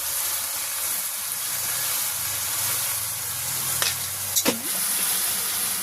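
Spice paste sizzles and fries in oil in a pan during village cooking, a steady hiss throughout with a couple of brief louder spatters near the end, no voices.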